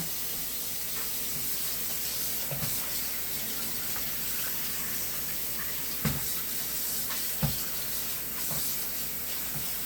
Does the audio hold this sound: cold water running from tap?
yes